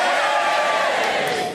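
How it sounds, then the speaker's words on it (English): A live comedy audience in Ottery St Mary cheers for scones, a dense sustained roar of crowd voices and shouts lasting the whole moment before fading slightly at the end. "right, cheer for scone"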